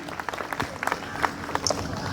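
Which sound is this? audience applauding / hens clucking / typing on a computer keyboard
audience applauding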